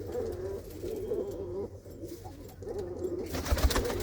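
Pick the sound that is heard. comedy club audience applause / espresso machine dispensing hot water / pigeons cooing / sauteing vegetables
pigeons cooing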